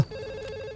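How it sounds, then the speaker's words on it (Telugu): A mobile phone rings close by with a brief, steady electronic tone, heard alone without any speech. "ఇక్కడే ఇక్కడ పక్కన రింగ్ అవుతుంది"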